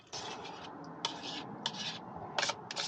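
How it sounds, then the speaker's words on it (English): Sour cream whisked little by little into a pot of pickle soup outdoors at a van campsite, with steady scraping and rubbing strokes and a few sharper metallic bursts, close and alone with no talk. "So we're just gonna slowly whisk this in."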